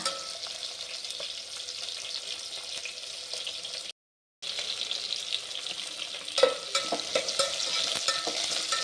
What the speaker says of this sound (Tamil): இந்த வெங்காயம் நல்லா வதங்கிட்டாங்க.